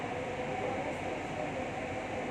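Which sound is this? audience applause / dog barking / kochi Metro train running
kochi Metro train running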